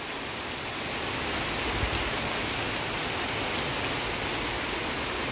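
Heavy tropical rain pours steadily in Florida, a dense continuous hiss of downpour close by with no letup and no voices.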